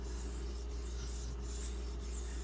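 A Benchmade 770 knife blade rubs across a Spyderco ceramic sharpening stone. A faint, steady rasping of strokes runs continuously over a low background hum, with no talking.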